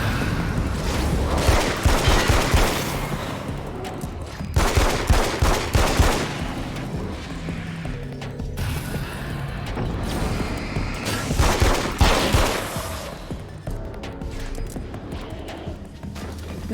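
Bursts of gunfire from a mistakenly chosen weapon in the video game Alan Wake's American Nightmare, arriving in dense rapid volleys around two, five and twelve seconds over a loud, busy game soundscape.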